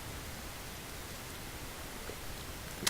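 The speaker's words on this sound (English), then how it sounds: "so we're either in drizzle or we have persistent light rain" Light rain and drizzle fall in Langdale in the English Lake District, a faint, even hiss with no talk, steady throughout and very quiet.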